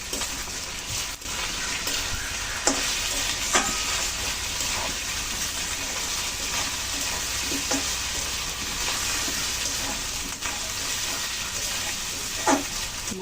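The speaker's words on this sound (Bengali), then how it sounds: "আর জিরা বাটা দিয়ে দিলাম। সামান্য একটু হলুদ দিলাম। এগুলো দিয়ে আবার একটু ভালো করে ভেজে নেব।" Cumin paste and a little turmeric frying in a pan for a cabbage ghonto, an even, close sizzle running throughout, marked by a few sharp clicks and stirring scrapes, with no voices.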